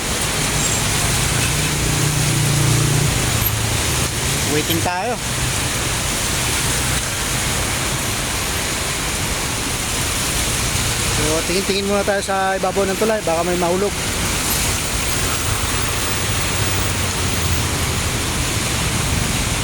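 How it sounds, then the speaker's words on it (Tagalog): Very heavy rain pours down on a bridge during a roadside stop in bad weather, a dense, unbroken hiss throughout, with someone talking over it and passing traffic faintly mixed in. "Kailangan natin maghintay hanggat matapos itong napakalakas na ulan."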